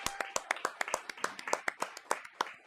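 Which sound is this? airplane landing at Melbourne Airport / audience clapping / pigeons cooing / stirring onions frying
audience clapping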